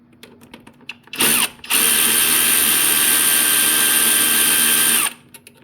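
An impact or power drill loosens bolts on a Mitsubishi Eclipse engine in a loud, close burst: a short first spin, a brief pause, then a sustained steady whine of about three and a half seconds, alone without talk.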